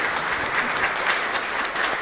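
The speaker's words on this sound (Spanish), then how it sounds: "un fuerte aplauso para Astrid entonces, que está aquí en medio" Loud, dense applause from a congregation at a Catholic Mass, steady and continuous throughout with no voices standing out.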